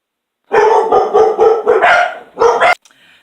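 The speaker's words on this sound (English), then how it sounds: "The dogs were excited about something." Several dogs bark excitedly in a loud, close burst of rapid, overlapping barks lasting a couple of seconds, then stopping abruptly indoors.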